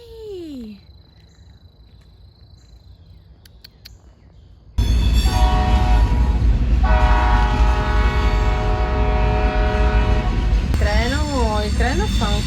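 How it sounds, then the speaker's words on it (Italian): A quiet stretch in the Ohio countryside gives way to a train roaring past close by, loud and sustained, its horn blaring long steady tones over the rumble. "Il treno fa un casino della Madonna"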